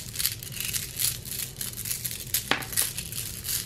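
Ceramic beads from a thrifted jewelry haul rattle and clink together as they are handled, giving a continuous close-up jostling with one sharper click.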